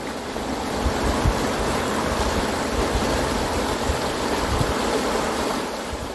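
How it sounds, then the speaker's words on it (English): A cold river running full of snowmelt rushes steadily and close by, a dense continuous wash of water with low churning rumble and no pauses. "It's mostly snow melt. So it really keeps this river full."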